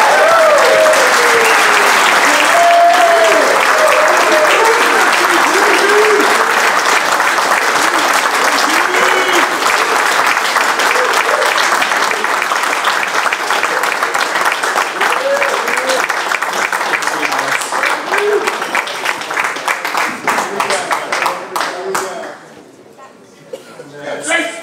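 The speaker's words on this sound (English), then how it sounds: "Please give a round of applause to congratulate Jay-Z Hollywood for his great honor in welcoming him to the podium." At a Cal lacrosse hall of fame induction, a crowd applauds loudly and steadily with scattered cheers and chuckles, the clapping gradually thinning out and fading near the end.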